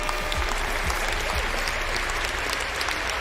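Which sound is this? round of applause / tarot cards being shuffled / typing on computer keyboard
round of applause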